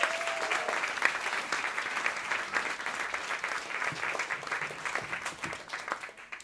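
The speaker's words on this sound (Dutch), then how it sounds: "Mag nog één keer een daverend applaus voor Wouter en Lila." Loud, sustained applause from a theatre audience at a live book-club stage show, dense clapping that runs steadily for several seconds before starting to thin toward the end.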